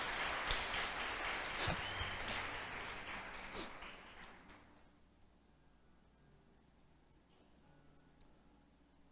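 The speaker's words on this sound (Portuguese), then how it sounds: "Quantos podem dar um aplauso pela vida do Vinícius?" Church congregation clapping during a sermon, a loud burst of applause lasting several seconds before fading out to near silence.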